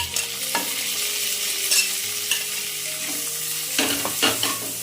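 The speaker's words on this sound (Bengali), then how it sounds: "টমেটোটাকেও আমি ভালো করে ভেজে নেবো এর সাথে।" Tomato frying in a pan with onion, ginger and garlic for an egg tadka, a steady close sizzle broken by several sharp scrapes of a spoon stirring against the pan.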